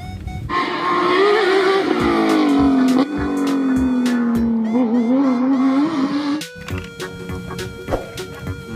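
A toy race car gives off a loud, whining engine sound that sweeps and wavers in pitch for several seconds, then cuts off into a few sharp clicks and clatters.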